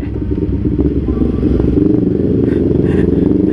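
A Honda CBR 250 RR sport motorcycle rides at night around Bogor, its engine droning loud and steady throughout with a constant rumbling hum and faint wind and road noise.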